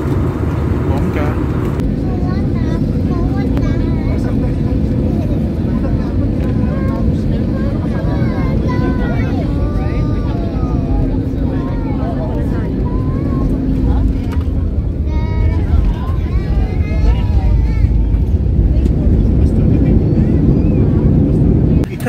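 A Philippine Airlines airplane lands at Caticlan Airport, heard from inside the cabin as a loud, steady engine and rolling roar lasting throughout, with voices talking over it.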